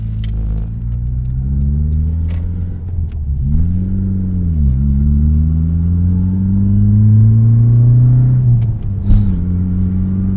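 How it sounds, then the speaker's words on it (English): A Fiat Cinquecento 1.1 Sporting's exhaust drones low and steady while driving, the pitch dipping and rising as the engine revs through gear changes. "Listen at that sound from the exhaust."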